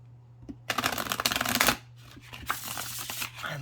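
Oracle cards are shuffled in a crisp riffling burst, followed by quieter shuffling and a second softer riffle, close up with no talking.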